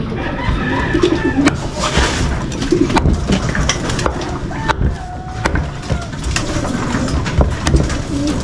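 Pigeons, kept as racing or play birds, coo repeatedly at close range amid a busy outdoor backdrop with scattered clucks, with no speech.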